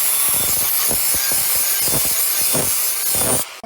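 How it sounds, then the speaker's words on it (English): Angle grinder shaping a steel blade in a workshop: a loud, continuous harsh rasping roar with rhythmic pulses as the tool is worked back and forth, close up, cutting off abruptly near the end. "we're gonna get an angle grinder. We're gonna go ahead and start shaping our blade"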